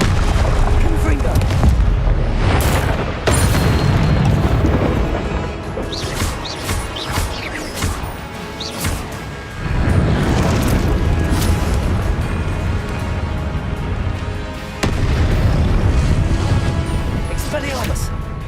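Repeated Confringo blasting-spell explosions in Hogwarts Legacy, a run of loud booming blasts and crashes spread through the clip. Voices speak throughout over busy game combat noise.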